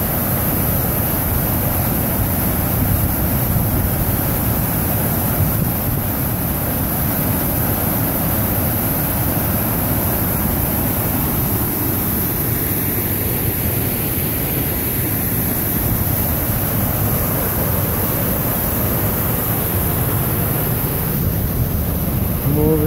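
Steady, heavy roar of floodwater rushing over a dam after a huge storm, a constant broadband wash that stays loud and unbroken from start to finish.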